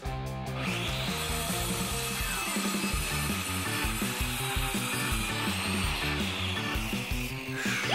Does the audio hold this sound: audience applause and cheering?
no